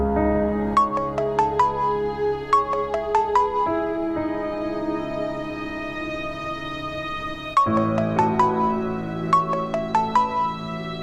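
An unanswered phone rings with a melodic ringtone, its bright chiming phrase repeating in two long bursts over a steady backing tone, close and fairly loud with no voices.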